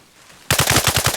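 Sudden burst of rapid automatic gunfire in the military shooter Arma Reforger, about a dozen loud, evenly spaced shots following a short quiet lead-in.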